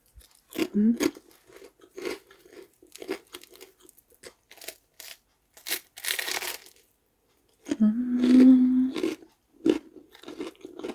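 Close, loud crunching as someone bites and chews a toasted breakfast sandwich with a crispy crust top and bottom, a juicy filling and melted cheese, in irregular bursts separated by short silences, with a brief murmured voice.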